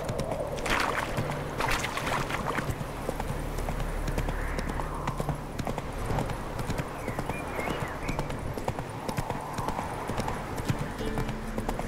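Roach's hooves clip-clop steadily in The Witcher 3, a close, rhythmic run of hoofbeats with an occasional snort or whinny among light game ambience.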